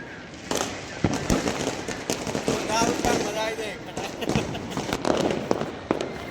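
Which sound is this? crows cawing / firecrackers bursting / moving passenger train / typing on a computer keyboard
firecrackers bursting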